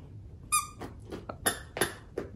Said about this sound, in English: Well, he found the squeaker.